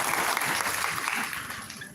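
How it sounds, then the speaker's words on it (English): Steady applause rises from the audience at an investments and capital markets conference. The clapping is dense and sustained from a large crowd and tapers slightly toward the end. "Can we have a round of applause?"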